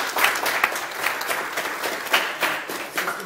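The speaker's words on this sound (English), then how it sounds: "Give him a round of applause" Audience at a high school presentation applauding, a dense, lively burst of clapping with uneven swells, fairly close and loud, carrying on without pause.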